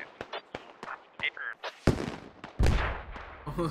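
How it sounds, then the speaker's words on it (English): Repeated explosions in a multiplayer shooter video game, with rockets striking a target: sharp booms in a quick irregular series, then two heavier, louder blasts with rumbling tails, partly under team voice chat. "Just so many explosions going off over here."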